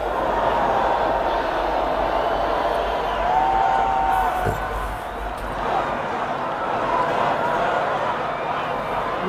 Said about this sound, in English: you can hear the crowd getting a lot bigger and a lot more energized